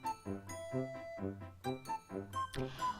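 A bright electronic correct-answer chime on a radio quiz plays a quick ascending ding-dong jingle, several tones in a row, ending with a short burst of cheering noise.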